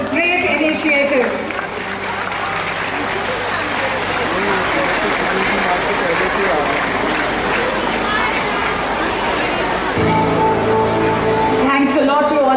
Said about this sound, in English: once again a round of applause for this great initiative